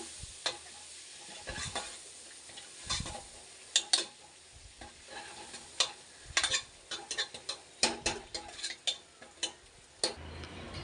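Ingredients for field bean (avarekalu) sambar fry in a pan, a soft continuous sizzle broken by many sharp ticks and clinks as a spoon stirs and taps the vessel, irregular and close.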